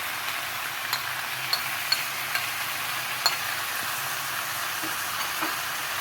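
Yogurt and biryani masala are stirred into softened tomatoes frying in a pan. The result is a continuous, even sizzle with scattered light clicks of a spoon against the pan.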